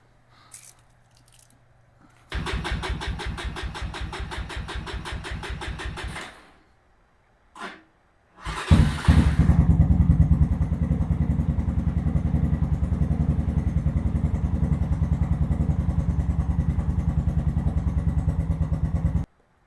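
A Venom Ghost 250cc chopper motorcycle with a new battery cranks over with a steady rapid starter whir, pauses, then catches and settles into a loud, even, pulsing idle close by.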